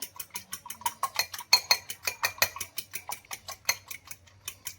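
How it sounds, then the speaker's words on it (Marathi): Eggs are beaten for a caramelized custard, the utensil clinking against the bowl in quick, uneven rhythmic taps, close and fairly quiet. "आता अंडे फेटून झाले."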